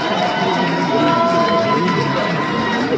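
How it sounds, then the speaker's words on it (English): A graduation audience cheers and claps, a dense, loud crowd roar with shouts and whoops layered over steady applause. "Applause."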